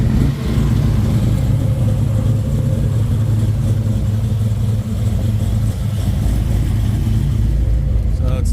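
The Rum Runner car's engine runs steadily at idle while its carburetor is tuned, a loud, dense low rumble sustained throughout with a brief dip midway.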